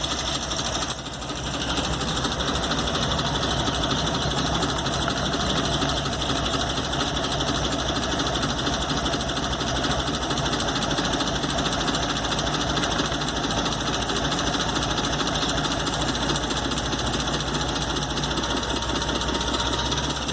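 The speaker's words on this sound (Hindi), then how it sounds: "इंजन बिल्कुल स्टेबल कंडीशन के ऊपर रन हो रहा है" A car engine with a freshly adjusted carburetor air-fuel mixture idles steadily, producing a continuous, even mechanical hum with a fine rapid rattle that holds the same level throughout, with no voices.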